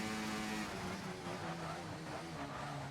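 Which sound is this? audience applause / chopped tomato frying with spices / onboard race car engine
onboard race car engine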